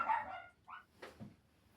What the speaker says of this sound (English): the delivery arrived and Millie started barking, of course